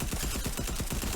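Rapid bursts of SMG fire in a video game, the submachine gun rattling off loud, close, evenly spaced shots with no pause through the whole moment.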